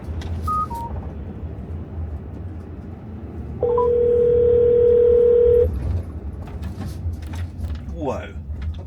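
Car phone placing a hands-free call: a few short dialing beeps followed by one steady ringback tone lasting about two seconds, clear over low road rumble inside the vehicle, with a voice speaking briefly.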